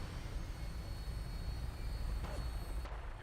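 An aircraft taking off in the video game Fallout 4, a steady engine roar with a rising whine filling the whole stretch at moderate loudness.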